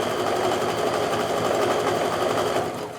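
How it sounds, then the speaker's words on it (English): A sewing machine runs steadily, stitching along a drawn line on a quilt block for a kaleidoscope pattern, its continuous close whir slowing slightly near the end, with no talking. "we want to sew down the other side of this drawn line as well"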